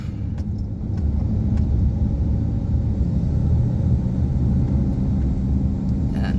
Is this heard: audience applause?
no